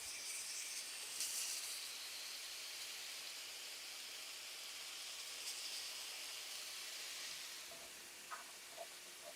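Chopped bacon and ground beef sizzle steadily in a pan, giving a continuous bright hiss that stays faint and even throughout, easing slightly near the end with a few small pops.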